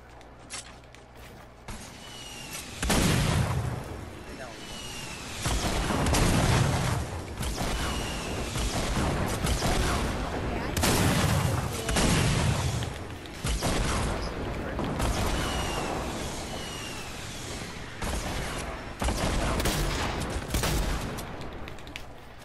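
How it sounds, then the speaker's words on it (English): Explosions and gunfire from a grenade launcher and rockets in a squads shooter game, with repeated booming blasts and crackling bursts at moderate level and faint player chatter. "I'm gonna spam it with grenade launcher, spam it with rockets."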